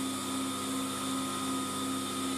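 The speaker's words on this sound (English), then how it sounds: "stitch them, which is I'm going to use the overlocker." An overlocker runs steadily while stitching a folded fabric tube for a headband, giving a continuous close mechanical whir and hum with no talking.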